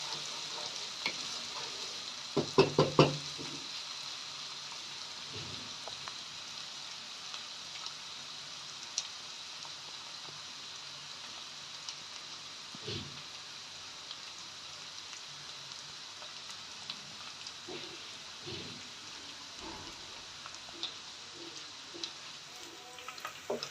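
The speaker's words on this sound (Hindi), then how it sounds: "अब ये लहसुन, प्याज और अदरक फ्राई हो गया।" Garlic, onion, ginger paste and tomato frying in a pan make a steady, quiet sizzle, with a few sharp stirring scrapes and clinks scattered throughout and a louder clatter of stirring near the start.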